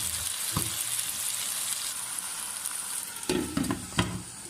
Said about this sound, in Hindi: हमें आलूओं को फ्राई करते हुए तकरीबन 3 मिनट हो चुके हैं